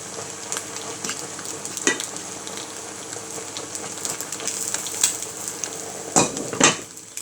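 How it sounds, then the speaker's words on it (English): Spicy noodles sizzling in a pan on a kitchen stove, a steady frying hiss broken by scrapes and clinks of a buttered spatula stirring, with louder clattering knocks near the end. "Ooh, starting to sizzle."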